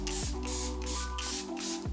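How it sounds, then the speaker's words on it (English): A Charlotte Tilbury makeup setting spray gives a few short hissing bursts in a quiet indoor room, close to the microphone, and no one speaks. "So I'm gonna use a little bit of my Charlotte Tilbury setting spray."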